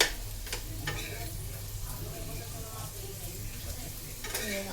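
Bitter gourd frying slowly in a little oil in a pan, a moderate steady sizzle with clinks and scraping of a utensil against the pan, no talking.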